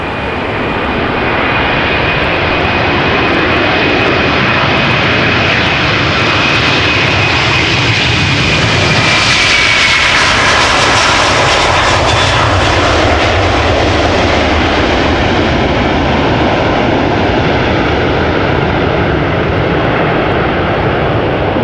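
Delta Air Lines Airbus A330-300 jet taking off from Amsterdam Schiphol, a loud, close, sustained engine roar that swells to a peak mid-clip and then slowly recedes, with a faint whining tone early on.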